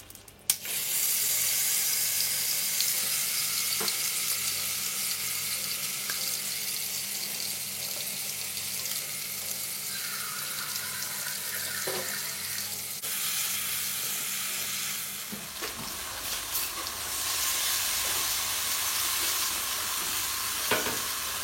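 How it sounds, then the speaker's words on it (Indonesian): Spice paste sautéing in a little cooking oil in a hot wok for smoked-fish mangut, a steady loud sizzle and frying hiss running continuously with faint stirring scrapes, easing slightly toward the end. "Ini ditumis sampai bumbunya matang"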